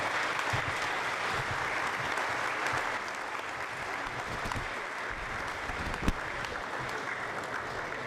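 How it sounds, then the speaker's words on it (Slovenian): Steady, sustained applause from a crowd at an outdoor political party rally in Slovenia, thanking the organizers; dense, even clapping throughout with one sharper clap near the end. "En aplavz si zaslužijo za organizacijo tega tabora."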